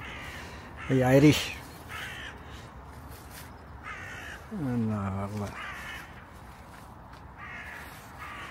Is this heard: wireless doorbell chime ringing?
no